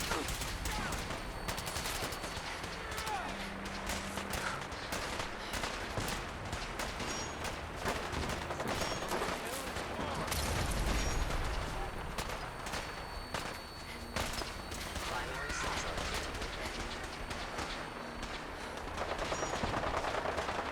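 Combat gunfire in Fallout 4 rattles on without pause: rapid overlapping shots and bursts, near and loud, over a dense rumbling background, with a voice speaking briefly between volleys.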